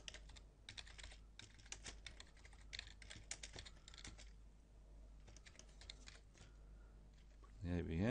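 Payer details are typed on a computer keyboard in quick, close, uneven bursts of clicking keys, quiet overall, ending in a short louder thump.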